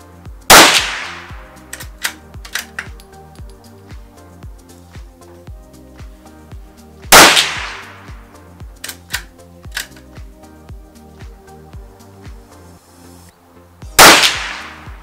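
Three loud, sharp .22 Long Rifle shots with CCI ammunition, spaced several seconds apart, each followed by a quick ringing decay, with softer clicks and handling noises from the rifle between them.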